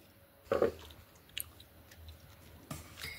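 Two people eating mutton curry, with a loud wet bite near the start followed by softer chewing and squishy mouth sounds, close and intermittent, with no talking.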